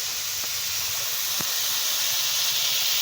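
Water poured into a pan of frying spice paste, producing a steady loud hiss of steam throughout with a couple of faint clicks.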